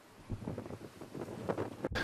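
Steady wind buffeting the microphone on an overcast day in Ireland, a low continuous rumble and whoosh with gusty fluctuations throughout.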